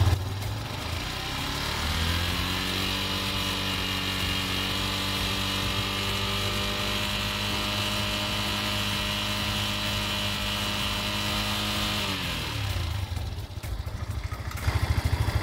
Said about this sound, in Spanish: Ahora vamos a proceder a acelerar la motocicleta aproximadamente a 5000 revoluciones